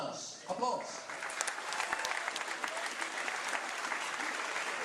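At the opening of a competition, an audience applauds Mr. Marco Waas of the Technical University of Delft. Clapping swells after a brief pause and continues as a steady crowd patter, with a voice briefly audible early on.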